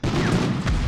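A grenade blast in Medal of Honor, a loud, close, dense boom that fills the whole short moment with rumbling debris and a sharp crack near the end.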